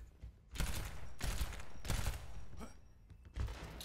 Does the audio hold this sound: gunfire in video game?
yes